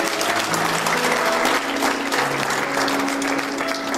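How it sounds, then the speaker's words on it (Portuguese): Wedding guests at a church ceremony applaud, a full and loud sustained burst of many hands clapping, with faint sustained musical tones underneath. "Quantos podem aplaudir ao Senhor por isso?"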